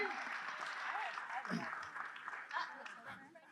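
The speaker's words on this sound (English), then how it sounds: "Fantastic round of applause for these actors" Applause for actors at a live improv voice game show, a steady crowd clapping at moderate distance with voices and cheers mixed in over it.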